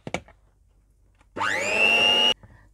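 An electric beater starts up and whines steadily for about a second as it beats 200 grams of cheese for an eggless no-bake strawberry cheesecake, rising in pitch then cutting off, preceded by a brief clatter.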